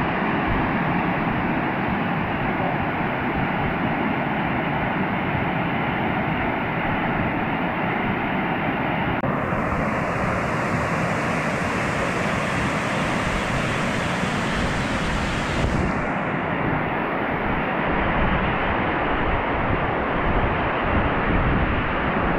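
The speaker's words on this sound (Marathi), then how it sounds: "धबधब्याचा आवाज एवढा जोरात आहे." Kuderan waterfall in a remote jungle thunders with a steady, loud, broadband roar that fills the whole stretch without pause, close and overwhelming, with no voices over it.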